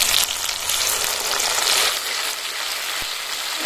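Tomato with green chili paste fries in a pan, making a close, steady hiss of sizzling oil with a light stir and a faint knock near the end.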